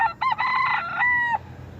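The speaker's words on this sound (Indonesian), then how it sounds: "Seperti ayam suaranya seperti apa?" A rooster crows once, loud and close, a long drawn-out call lasting over a second with no other sound around it.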